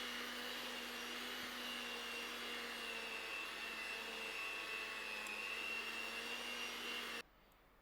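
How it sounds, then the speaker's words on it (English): An electric whisk mixes marble cake batter with a steady, droning motor whine at constant speed for about seven seconds, then cuts off abruptly into near silence. "I'm going to use my whisk to mix it all together. I'll give this batter a quick whisk."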